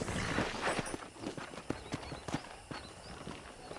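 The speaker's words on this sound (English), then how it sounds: "let's see if you can still ride a horse." Horse hooves clip-clop in a steady walking rhythm, crisp and close, with a faint ambient hum behind them, in the video game Red Dead Redemption on a ranch.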